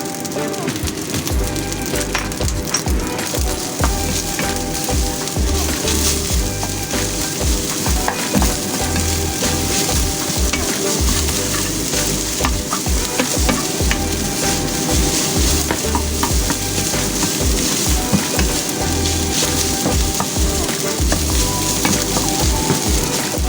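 Garlic fried rice sizzles steadily in a hot pan while a utensil stirs and scrapes through it, a dense, continuous crackle with rhythmic scraping strokes, close and fairly loud.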